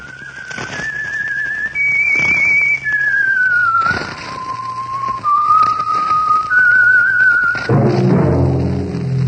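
A clear whistled tune of drawn-out, sliding notes, a short melodic signal rising and falling, ending with a low thump.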